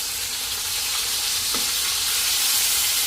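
Steak sears in a hot pan, a loud dense sizzle and hiss that holds steady from start to finish, close and alone with no voices.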